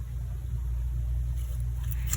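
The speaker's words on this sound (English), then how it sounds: "we still hear that crazy traffic" Road traffic heard through an open window as a steady low rumble and hum, continuous and moderately loud with no distinct passing vehicles.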